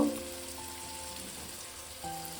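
Ginger-garlic paste dropped into a hot pan, a steady close sizzle and crackle throughout with a faint low tonal hum underneath and no voices.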